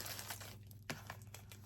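Thick plastic packaging on a book box crinkles and tears as it is opened, with soft rustling and one sharper rip up close.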